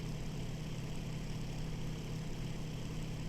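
A Bf-109F-2 fighter engine in IL-2 Sturmovik runs with a steady, low droning hum that holds evenly throughout, with no voices over it.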